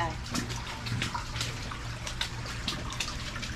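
Creek water flows beneath a house in Albemarle, North Carolina, making a steady, close rushing and trickling wash that continues without a break.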